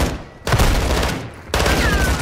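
Rapid bursts of automatic gunfire from Call of Duty DMZ as players shoot AI bots, two dense sustained volleys separated by a short break, loud and close.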